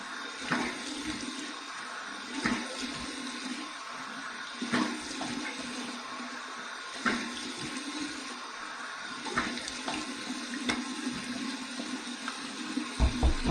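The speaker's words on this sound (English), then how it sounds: "cold water rinse" Running tap water streams steadily into a sink for a cold rinse after a shave, a continuous close wash with faint splashes and occasional handling noises.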